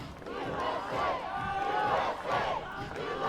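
US fans cheering from the stands at a junior recurve archery final, a continuous crowd roar with rising whoops and shouted calls, steady and fairly loud throughout.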